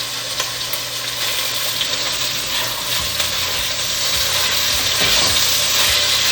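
Meat for plov browns in a hot pot with a loud, dense, continuous sizzle close up, and occasional stirring scrapes come through the frying.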